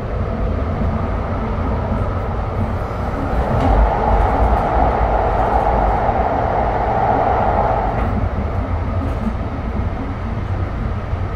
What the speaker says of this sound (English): Here comes the next train.